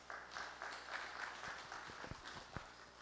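An audience claps hands at a seminar, a moderate, steady patter of applause with some sharper individual claps standing out near the end.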